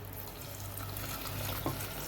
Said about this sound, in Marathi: त्यामध्ये आता गरम पाणी ओतणार आहे.